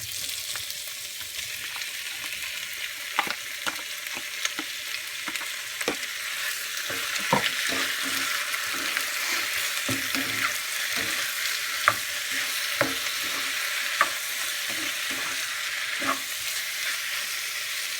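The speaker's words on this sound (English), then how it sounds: "my onions is ready, so I'm gonna go ahead and add my shrimp" Shrimp and onions sautéing in a pan give off a steady, close sizzle, broken by scattered clicks and taps of stirring throughout.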